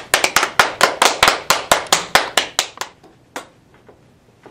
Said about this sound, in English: This week, the cheer of the week is everybody clap your hands.